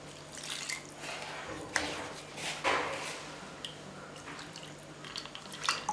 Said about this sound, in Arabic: وكنبدا نضيف الماء